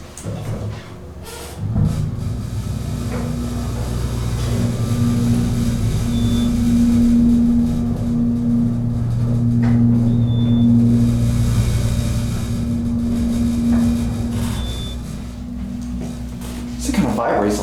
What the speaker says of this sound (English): Now let's be quiet, listen to the motor going up.